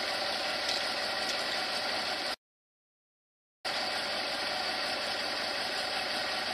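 A Toyota Previa 2TZ-FE engine idles with a steady mid-pitched drone and faint ticking during ignition timing adjustment, cut by a brief stretch of total silence before the idle resumes.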